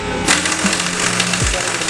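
Bolts are tightened during a coilover install on a BMW 435i, producing a short, loud, steady mechanical buzz that lasts about two seconds.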